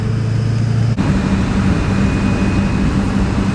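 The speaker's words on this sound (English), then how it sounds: "You can really hear that turbo." Built Duramax diesel truck driving, a steady low engine drone with a faint high turbo whine running continuously underneath, close and fairly loud inside the cab.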